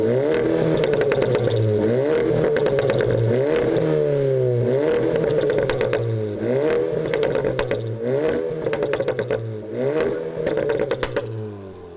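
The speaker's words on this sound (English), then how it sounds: "I'll give you guys a couple rev clips with pops on and pops off" A VW Golf Mk7 with a Borla exhaust revs repeatedly, each loud rising and falling engine sweep followed by sharp crackling exhaust pops, the cycle repeating close by for the whole stretch.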